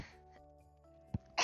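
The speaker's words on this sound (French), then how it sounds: "J'ai envie d'éternuer." A short, sharp sneeze bursts out near the end, following a quieter catch just before it, over soft, steady background music from a Sims 4 game session.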